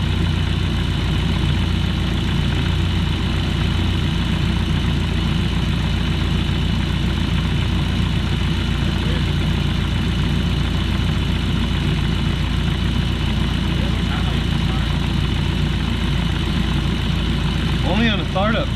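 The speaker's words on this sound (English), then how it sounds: "Misfiring now on number 1, 3, and 4." A Volkswagen GLI engine idles just after startup while misfiring on several cylinders, giving a loud, continuous rough drone with an uneven, lumpy pulse throughout.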